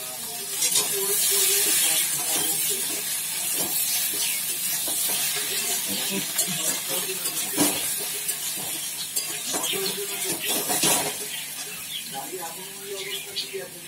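Boiled potatoes added to a hot pan and cooking, with soft steady sizzling and scattered clinks and scrapes of utensils at moderate level, no talk over it.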